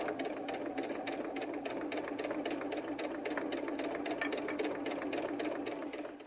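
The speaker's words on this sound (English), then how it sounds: "I'm going to back stitch and then just slowly go around my curve here." A sewing machine back-stitches, then runs slowly around a curve at a quarter-inch seam allowance on a small doll backpack piece, giving a steady, rapid, close mechanical chatter throughout.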